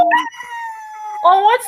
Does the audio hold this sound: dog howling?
yes